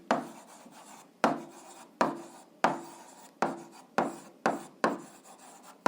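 Chalk writes on a classroom board for an algebra lesson in a series of about eight quick scratchy strokes, each a sharp attack trailing off, in an even rhythm close by with no talking.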